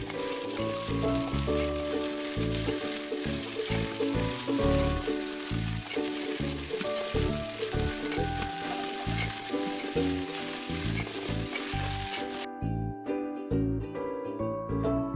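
Sponge gourd and onions fry in hot oil in a pan, giving a steady, continuous sizzle that runs under loud, rhythmic background music throughout.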